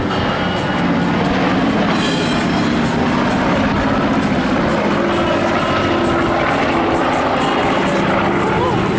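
Old aircraft, first flown in 1958, making a fast low pass downwind at an airshow, a loud, sustained engine roar filling the whole stretch with a dense broadband rumble, heard over crowd ambience.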